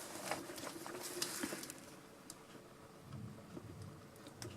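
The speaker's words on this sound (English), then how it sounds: "There's the rumbles of thunder." Faint, distant rumbles of thunder rolling low beneath a steady patter of rain, with a few brighter drop sounds scattered over the quiet storm.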